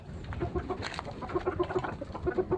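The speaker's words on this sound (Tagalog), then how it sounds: "Bigyan natin itong isang manok." Nearby hens cluck in short repeated clucks, spaced in small clusters, with low farmyard rustling underneath.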